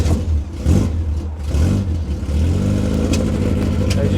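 A 1955 Austin-Healey 100S tribute pulls away with a loud, close engine note that rises in revs and settles into a steady, throbbing drone heard from inside the car.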